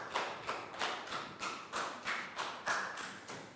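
A small class of Year 3 primary pupils claps for a classmate in the classroom, about eight distinct rhythmic claps or taps spaced roughly half a second apart, close and moderately loud.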